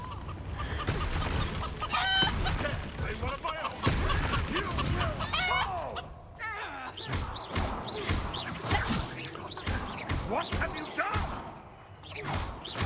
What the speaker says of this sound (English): the calls of the chickens there in the background